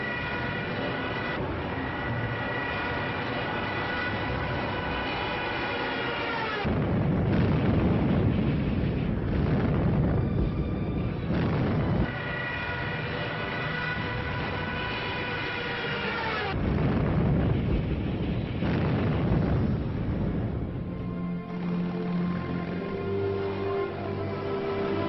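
Bombs exploding and artillery fire in wartime, heavy booming bursts rolling in two loud waves over a constant low rumble, with no voices.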